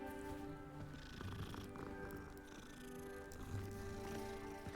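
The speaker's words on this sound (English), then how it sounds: "Cat." A cat in Hogwarts Legacy purrs steadily and close, a low continuous rumble set against quiet background game ambience.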